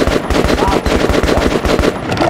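Rapid automatic gunfire at a shooting range in Metro Last Light Redux, a steady stream of loud, evenly spaced shots running for the whole stretch without a break.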